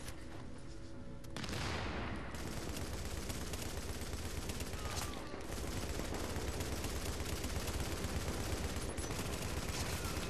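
LMG gunfire in The Division video game fills the scene with dense, sustained bursts of rapid shots, loud and continuous after a brief quieter opening.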